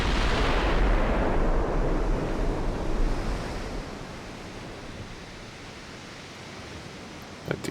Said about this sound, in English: Get all of our guns firing right away.